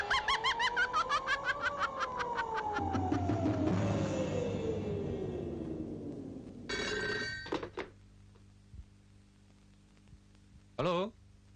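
An old telephone bell rings in rapid repeated bursts, loud and close, under a sliding music tone, then stops, followed by softer clicks, a brief voice and handset noise.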